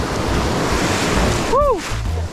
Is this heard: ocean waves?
yes